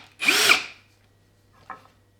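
A power drill briefly boring into wood, one loud whirring burst about half a second long, then a short second spin-up after a pause, close and clear with no talk.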